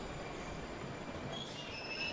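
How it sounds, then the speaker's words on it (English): A Red Line subway train arrives at North Central Station platform, its steel wheels screeching and squealing in high sustained tones over a constant rumbling roar, with no talking. "This is a Red Line train to Constance Park."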